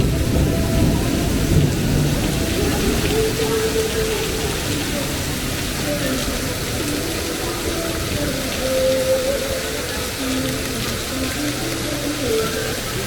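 Heavy rain pours steadily onto a street in China during a storm, a dense close hiss with occasional louder gusts and faint background voices.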